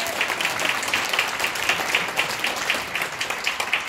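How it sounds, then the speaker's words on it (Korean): A church congregation applauds, a broad, even wash of many hands clapping together at moderate loudness, continuing steadily without speech. "박수 치시는 거 보니까 좀 알아들으신 것 같아요"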